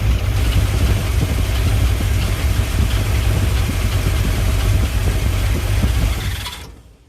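Close, steady idle of a 1970 Dodge D100 pickup truck engine with Mallory Unilite ignition, a low rumbling drone running evenly before cutting off abruptly near the end.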